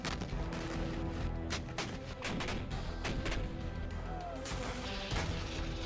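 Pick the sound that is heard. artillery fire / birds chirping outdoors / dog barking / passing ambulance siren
artillery fire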